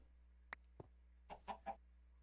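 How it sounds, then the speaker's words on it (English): Chickens clucking inside walls in Minecraft, a few short, faint, separate clucks spread over a couple of seconds over a low steady hum. "Now here's some chickens in the walls."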